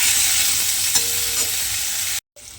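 Eggplant pieces seasoned with salt and turmeric fry in hot oil, giving a steady, loud sizzling hiss with faint stirring, until the sound cuts out briefly near the end.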